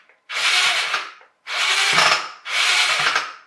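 A radio-controlled Robot Wars Shunt toy with a broken gear runs its axe mechanism in three bursts of whirring, rattling mechanical grinding, each about a second long and separated by short pauses, close and loud.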